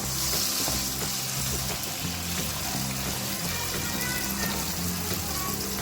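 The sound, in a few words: tomatoes frying in a pan for qeema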